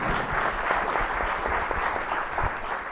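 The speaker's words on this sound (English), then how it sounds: "Let's have a round of applause for Beacon." Steady applause from a small audience at a startup pitch event, continuous clapping with distinct claps standing out, lasting a few seconds.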